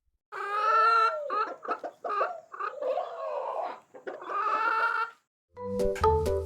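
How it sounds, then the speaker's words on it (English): A chicken clucks and squawks in a run of loud, close, choppy calls, with a brief pause before a final burst of sharp cackling. "It's a chicken."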